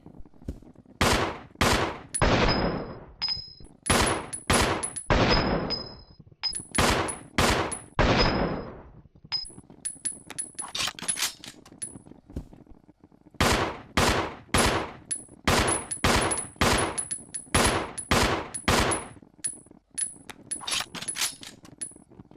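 Handgun shots ring out in Resident Evil Zero, loud sharp reports fired in quick bursts of two to four with short pauses between, each followed by a bright metallic tinkle of ejected casings.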